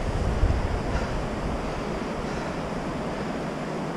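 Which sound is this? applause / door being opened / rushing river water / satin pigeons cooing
rushing river water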